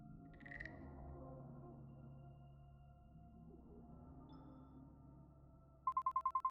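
A phone rings in the video game Lovers Enigma, a short burst of repeated electronic pulses arriving at the very end after a stretch of quiet ambient background.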